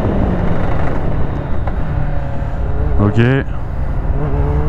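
Motorcycle engine revving under acceleration with an abrupt on-off throttle response, a rising whine swelling briefly over a steady engine drone while someone speaks a single word.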